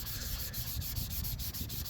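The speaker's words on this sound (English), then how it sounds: "Get you some sanding action here." Steady, close scratchy rubbing of 400 grit sandpaper wet-sanding a painted model rocket surface, a continuous gritty hiss with faint rhythmic strokes and no talking.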